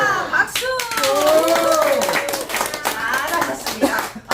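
Members of a business association clap together after a group chant, a close, loud burst of hand claps that runs throughout, with voices calling and cheering over it.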